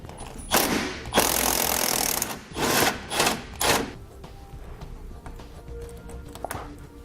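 Wrench and socket work loosening a 10mm nut at the front of the charcoal canister on a 2016 Jeep Patriot: a handful of close, scraping ratchet-like bursts and taps, louder early and fading to lighter clicks.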